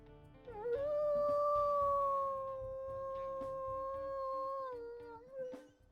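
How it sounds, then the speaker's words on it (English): A wolf in the video game WolfQuest gives a single long, clear, sustained howl that rises, holds steady and then dips and fades, heard alone over faint game background. "Listen to her howls as well."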